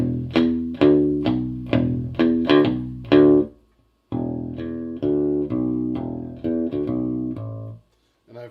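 Bass guitar fitted with a new Hipshot bridge, played with tones flat and bass fully up, through dead pickups: two phrases of distinct, ringing notes with a short gap between, bright and clear with no talking.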